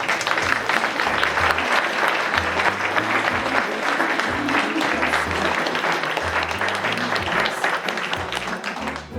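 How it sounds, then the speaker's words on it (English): An audience gives a sustained round of applause, dense continuous clapping from many people at an even, loud level, with no talk over it. "Could I have a round of applause for these people?"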